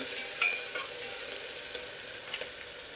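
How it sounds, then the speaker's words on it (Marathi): Onion and tomato sauté in a pan with a bright, continuous sizzle and a few light stirring scrapes. Nearby and with no talk. "आता छान असा परतून घ्यायचा कांदा टोमॅटो"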